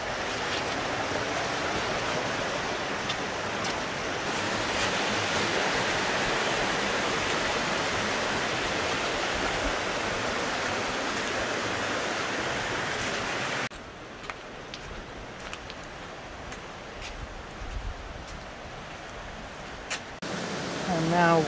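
River water rushing over rock in a desert canyon near Sedona, a loud continuous roar that drops noticeably quieter partway through while splashes and movement sound nearby.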